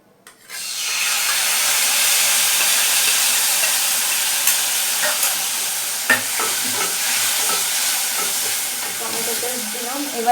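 Tomato paste hits hot oil in a pan with fried cumin seeds, and a loud, steady sizzle and hiss begins almost at once and carries on close and continuous throughout.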